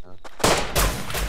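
Gunfire in the video game Rust cracks out in loud, dense bursts after a brief voice at the start, two heavy volleys in close succession.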